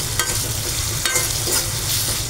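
A paste of onion, chili, ginger and garlic fries in a very hot wok, giving a steady, dense sizzle with scraping stirs on top for a pabda fish curry, close and continuous with no voices.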